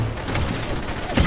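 Cannon fire in Fallout 4 at the U.S.S. Constitution, a loud, dense burst of booming blasts crowding the whole short moment, with a heavier thump near the end.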